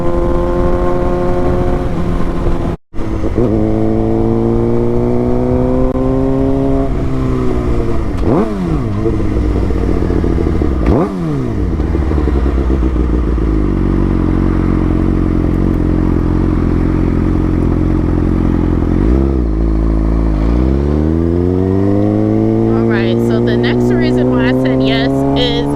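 A Suzuki GSX-R 600 sport bike rides along loud and close, its engine droning with repeated rising revs through the gears and one brief cut in power, wind rush beneath.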